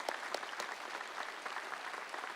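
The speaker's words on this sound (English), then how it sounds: "You deserve a round of applause for all that you've done to support these people." Applause from families of graduates at a county graduation ceremony, a steady patter of many hands clapping throughout at moderate distance, with no talk over it.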